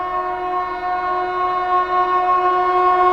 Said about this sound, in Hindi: Banaras New Delhi Sivaganga superfast express